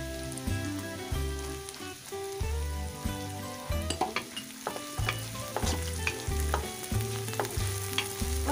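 Cumin, ginger and green chilli being roasted in a pan for Banarasi tomato chaat, a steady close sizzle with a low rhythmic churning from repeated stirring and sharp scraping clicks of the spoon, no voices.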